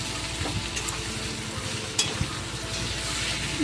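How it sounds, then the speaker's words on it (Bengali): Pointed gourd and crab stir-fried in a pan give a steady close sizzle, with a few faint scrapes and clicks from stirring. "দিয়ে দিয়েছি পটল একটু কষিয়ে নেবো ভালো করে নাড়িয়ে চাড়িয়ে"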